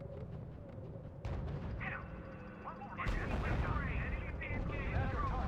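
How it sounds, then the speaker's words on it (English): Video game gunfire from a D-Day battle on Utah Beach in R.U.S.E.: bursts of shots and heavier booms break out over a low battlefield rumble, growing denser and louder in the second half. "Unit under sustained fire."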